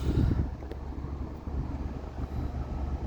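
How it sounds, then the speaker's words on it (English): Air conditioning blowing steadily from the dash vents of a 2004 Toyota 4Runner, a close, continuous rushing hiss with a low rumble underneath, alone and without talk. "Let's check the AC real quick, actually."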